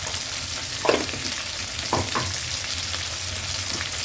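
Dry-fried chicken for a traditional Bodo recipe sizzles steadily in a pan while red chili powder is stirred in, with two sharper scraping strokes of the spoon over the continuous frying hiss.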